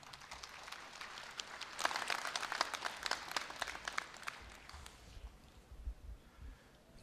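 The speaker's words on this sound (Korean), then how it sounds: "여러분, 부회장님을 큰 박수로 환영해 주십시오" A crowd at a Korea University graduation ceremony applauds to welcome the alumni association vice president. Dense, sustained clapping swells and then thins out and fades over several seconds.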